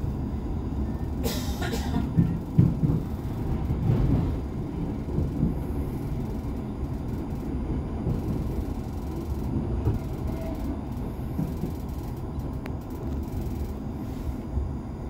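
An ÖBB CityShuttle regional train rolls into Wien Franz-Josefs-Bahnhof, a steady low rumble of the carriage with a few clunks and a brief squeal early on, continuous and close throughout.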